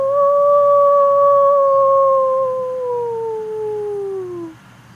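A person imitates a wolf howl with one long, loud sustained tone that slowly slides downward in pitch over several seconds, then cuts off near the end, with no other sounds around it.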